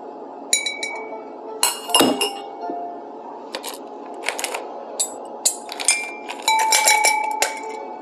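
Ice clinks against a rocks glass as a cocktail with orgeat and molasses is stirred, a run of bright irregular taps and rattles close by, quickening into a denser jingle near the end.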